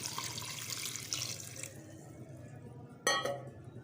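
Water is poured into a cooking pot of keema with spices, a steady faint splashing stream that tapers off, ending with a brief clink of glass or metal; no talking.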